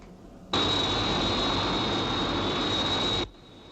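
Jet interceptor aircraft taking off as a TV sound effect, a loud steady roar with a high whine that starts abruptly, holds for nearly three seconds, then cuts off.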